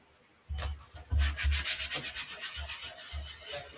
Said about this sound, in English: I'm only going to burnish where there's silkscreen